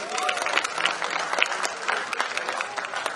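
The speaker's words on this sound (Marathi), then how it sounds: "एकदा जोरदार टाळ्या" An audience at a young poets' poetry gathering applauds, a burst of many hands clapping that carries on steadily at moderate loudness for the whole stretch, with murmuring from the crowd underneath.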